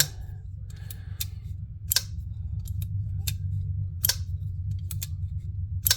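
A folding knife gets flicked open, including reverse flicks, giving a series of sharp, crisp mechanical clicks and snaps spaced irregularly over a low background hum, close and without speech.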